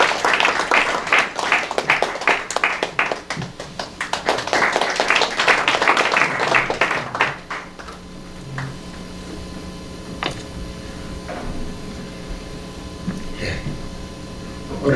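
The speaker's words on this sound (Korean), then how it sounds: "박수로 맞이해주시면 고맙겠습니다." Audience applause at a Trust Forum gathering in Busan welcoming a pastor to speak, dense crowd clapping for about seven seconds that then thins to a few scattered claps over quiet room hum.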